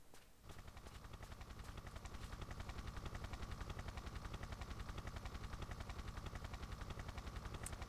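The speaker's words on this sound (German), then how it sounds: "Und da kommt schon unser Hubschrauber." Helicopter arriving in the video game Tomb Raider III, a steady rapid rotor chop that fades in and quickly grows loud and constant, with no voices over it.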